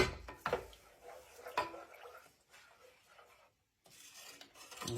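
Instant potato flakes being stirred into a yeast roll mixture in a home kitchen, giving a few close scraping, rasping strokes of utensil against bowl, with a brief quiet gap.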